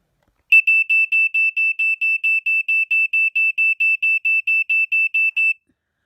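A battery-powered smoke alarm fitted with a taped-on trumpet horn and a 9-volt battery sounds under test, giving a loud, close string of about twenty evenly spaced shrill beeps for five seconds before it cuts off.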